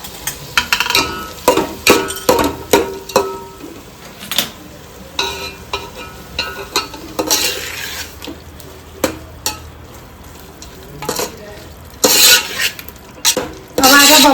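Lotus root goes into cooking masala in a pan, with loud, close sizzling and frying broken by repeated stirring scrapes and clinks of a spoon against the metal pan.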